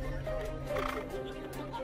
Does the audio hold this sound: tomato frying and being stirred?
no